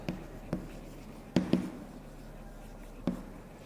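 Chalk or marker writing on a classroom board during an English grammar lesson, a few sharp tapping strokes spaced irregularly, close and fairly quiet, with no voice.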